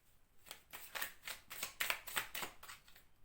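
A Whispers of Love oracle card deck being handled and shuffled, giving a quick run of soft riffling flutters and taps. The shuffles come close and faint, with no talking over them.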